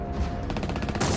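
Simulated gunfire played through loudspeakers during the D-Day landings of the Second World War sounds as a rapid burst of shots, crackling in quick succession, followed by a louder blast.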